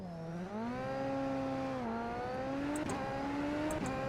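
A Super Formula SF23 race car in iRacing launches from a standing start, its engine held at high revs and then climbing steadily through the rising pitch as the clutch bites, loud and close with no voices.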